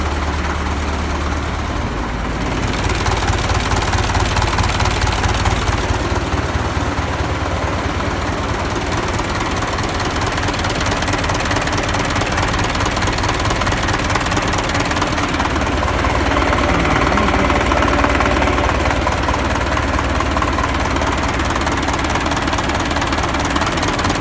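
A YuMZ-6 tractor engine with high oil pressure runs loudly and close, a steady low diesel rumble with a rapid knocking pulse that rises slightly in revs partway through, with no talk.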